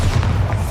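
A Bombarda spell explodes in Hogwarts Legacy, giving a short, loud, low boom that fills most of the moment without a clear attack.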